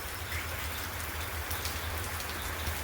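Dense, even patter of heavy monsoon rain falling in Unjha, Gujarat, a continuous hiss of drops on surfaces with no voices.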